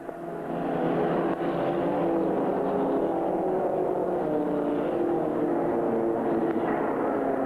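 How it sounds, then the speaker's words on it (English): Stock car engines roar at Thunder Road Speedbowl, a steady loud drone of several cars racing together with no pauses, filling the whole stretch. "Good racing at the front of the pack."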